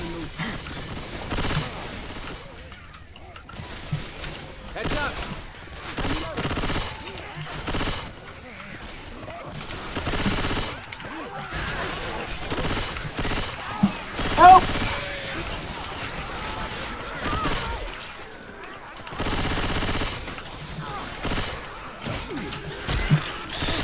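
Left 4 Dead 2 game gunfire: repeated bursts of shots and chaotic combat noise recur across the stretch, interspersed with crashes and heavy action sounds, while several people talk loudly over it throughout.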